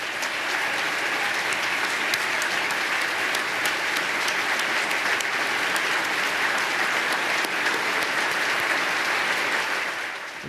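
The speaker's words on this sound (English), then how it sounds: "let's give him a round of applause" Sustained, dense applause from a large audience at the 2016 State of the State Address honors State Police Sergeant Jay Cook, loud and steady throughout before tapering slightly at the very end.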